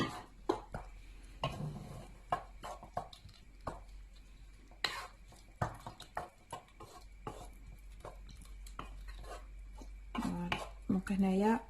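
Caramel gets stirred into apples in a bowl for a bûche filling, giving intermittent scraping and clinking of a utensil against the bowl in irregular strokes, close and fairly quiet, with a voice speaking briefly near the end.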